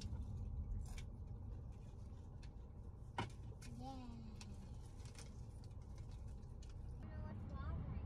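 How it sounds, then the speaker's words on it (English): Traffic rumbles steadily in the background as cars pass by, with a few faint bird chirps over the low road noise. "You don't like hearing the rushing cars go by?"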